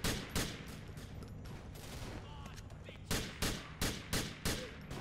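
Rapid bursts of gunfire from a firefight in Grand Theft Auto 4: The Lost and Damned, loud, close broadband cracks clustered in quick volleys with a steadier stretch of shots in between.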